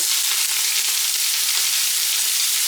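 Red chilies and prawn heads fry in hot mustard oil, making a loud, dense, unbroken hiss of sizzling close up, with no talking.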